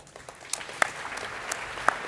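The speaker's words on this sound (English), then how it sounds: "and applause for them" An audience at a general debate session applauds room attendants, a steady wash of clapping from a moderate distance with a few sharper individual claps standing out.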